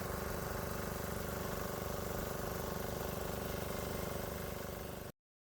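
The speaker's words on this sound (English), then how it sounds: "we're moving on just the gasoline engine" A twin-engine golf cart drives on its gasoline engine alone, a steady mid-pitched engine drone holding even for several seconds before cutting off abruptly.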